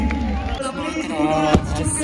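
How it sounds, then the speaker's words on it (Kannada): Large outdoor crowd at an Indian Air Force Suryakiran aerobatic team air show, cheering and shouting in a steady, dense roar with scattered whoops and a brief louder swell near the end. "ಬರಲಿ ಜೋರಾದ ಚಪ್ಪಾಳೆ ಪ್ಲೀಸ್"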